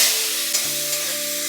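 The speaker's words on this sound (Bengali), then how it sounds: "তেল গরম হয়ে গেছে, কাঁকড়াগুলো ভেজে নেব।" Small crabs frying in hot mustard oil in a wok give a steady, fairly loud sizzle throughout, with a faint background hum and no talk.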